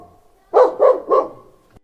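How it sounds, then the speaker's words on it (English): A dog barks three times in a quick, evenly spaced run, loud and close, in a children's alphabet phonics song, with a faint tone underneath and no talking. "D for dog."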